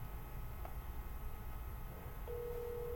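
A telephone line tone rings out during a call transfer to a state appeals office, a steady tone starting near the end over constant line hiss, with no voices.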